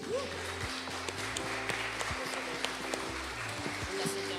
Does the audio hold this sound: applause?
yes